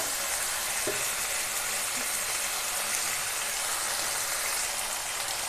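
Chicken curry sautéing in hot oil in a pan, a constant bright sizzle and hiss with a couple of faint clinks as it is stirred.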